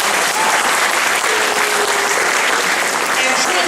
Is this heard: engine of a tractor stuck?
no